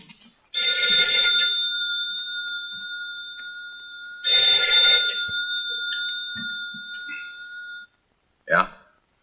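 An old telephone bell rings in two long bursts, each fading into a steady sustained tone, close and clear indoors, followed by a brief voice at the end.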